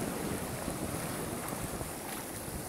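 Ocean surf at Byron Bay beach, a soft continuous wash of waves with wind buffeting the microphone, fairly faint and unbroken throughout.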